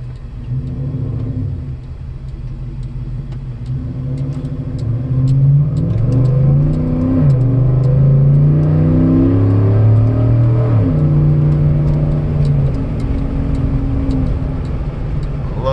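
A 2017 Chevy Silverado Z71 LTZ pickup with a 6.2 V8 and aftermarket mods accelerates up a hill, its loud, deep exhaust rumble rising and shifting through gears, heard close from inside the cab.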